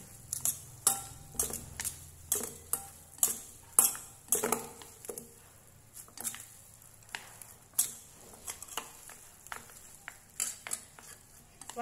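Marinated glass noodles are tossed with a couple of spoons of cooking oil in a bowl, making a steady run of light clinks and taps from the utensils, fairly quiet and rhythmic, with no voices.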